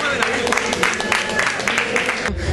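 An audience at a rock concert claps in a short burst of dense, steady applause, fairly close, with a voice speaking over it.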